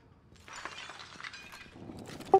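Window glass shattering in the video game PUBG, a crisp breaking crash followed by scattered tinkling shards, fairly close and alone before a brief sharp knock at the end.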